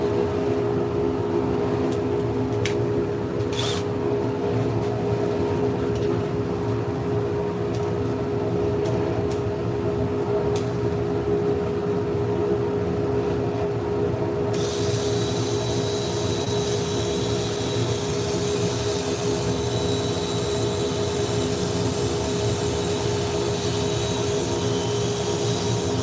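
A wooden bowl spinning on a woodturning lathe while being sanded with 400 grit paper gives a steady, continuous whir and hum. The broad, even noise runs throughout at constant level, with a brighter hiss joining partway through.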